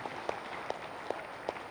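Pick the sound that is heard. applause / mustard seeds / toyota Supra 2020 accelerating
applause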